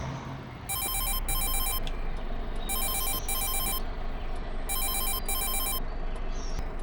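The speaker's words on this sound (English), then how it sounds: "Oh, the phone's ringing." A telephone rings in the farming video game Farming Simulator 22, three bright electronic double-trill bursts repeating at steady intervals over a constant loud engine and ambient rumble.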